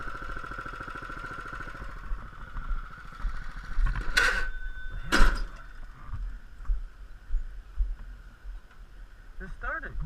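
A small go-kart engine runs on walking trails with a steady buzzing drone and brief revs, heard from close by. People talk over it.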